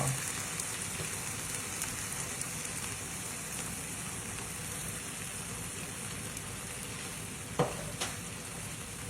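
Mushrooms and cream cook in a pan for spaghetti carbonara, giving a steady soft sizzle and bubbling throughout, with a couple of brief utensil clinks near the end.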